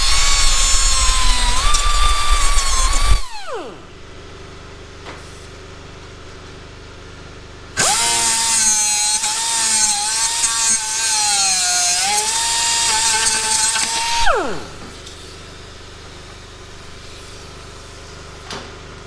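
A loud, high-pitched power tool trimming plastic on a Mercury Grand Marquis whines steadily for a few seconds, stops, then runs again longer with a wavering pitch before cutting off.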